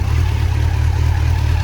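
A 2020 Kawasaki Z900 Euro 5/BS6 motorcycle running on its stock exhaust, a loud, steady low engine rumble with a slight pulsing throb, close by and without talk.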